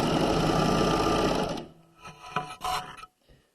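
A serger runs a steady, loud, fast overedge stitch along the crotch seam of pajama pants for about a second and a half, then stops, leaving a few quiet handling rattles and clicks.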